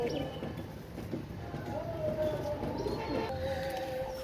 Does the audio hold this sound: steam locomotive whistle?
no